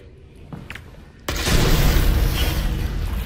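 A grenade explodes in the VR game Half-Life Alyx: a sudden loud blast after a quiet lead-in, followed by a sustained roaring rumble that stays heavy to the end.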